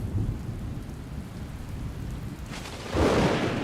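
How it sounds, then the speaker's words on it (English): Rain falls across the Liuwa Plain with a steady hiss under low thunder rumbles. The downpour swells louder near the end as heavier drops arrive, and no one speaks. "With the first drops of rain,"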